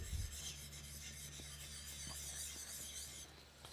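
A chisel is rubbed back and forth on abrasive sharpening media in circular strokes, a continuous close gritty rasp with a low steady hum beneath it and no voices.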